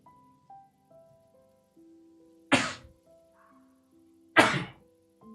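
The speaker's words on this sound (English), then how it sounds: "Been sneezing all day." Two sharp, loud sneezes a couple of seconds apart, each a sudden burst that cuts off fast, over quiet soft background music.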